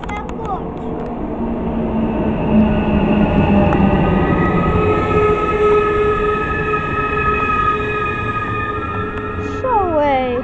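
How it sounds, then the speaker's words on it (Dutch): A stopping train runs through Amersfoort station, its steady rumble and wheel and rail tones holding for about ten seconds at close range, with a brief rising tone near the end. "Stoptrein."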